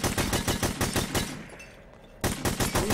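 Rapid automatic gunfire in the video game The Hidden, steady bursts, a pause of about a second, then the shooting resumes just as fast and loud.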